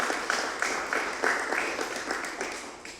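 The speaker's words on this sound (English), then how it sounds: "I hope you're not all clapping because I said I'll finish" A small audience claps after a poetry reading, a short burst of warm, moderately loud applause with scattered individual claps rising and fading.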